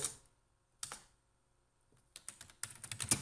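Keystrokes on a computer keyboard while typing text into a menu template, arriving in sparse isolated taps at first, then a quicker run of clustered clicks near the end, close and fairly quiet with no speech.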